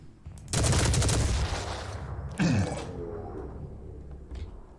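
Sustained automatic gunfire in the Phoenix Point video game, a dense loud burst lasting about two seconds, then a second sharp volley with rattling mechanical tails fading under game ambience.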